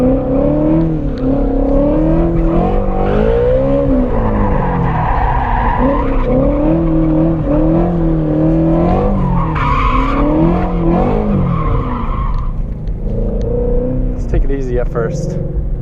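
A 2017 Shelby GT350 drifts with long, loud tire squeals over a revving V8 engine, the skid pitch rising and falling as the car slides, heard close and continuous.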